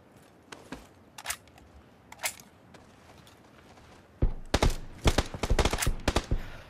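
Gunfire in the battle royale game PUBG, with a Groza rifle: a few isolated distant shots, then a rapid burst of loud, close automatic fire.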